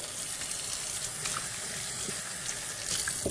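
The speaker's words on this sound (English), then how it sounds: "Anytime you handle raw meat, you need to wash your hands with soap and hot water" Hot tap water runs steadily into a kitchen sink as hands are washed after handling raw beef, a constant close splashing hiss with no voices.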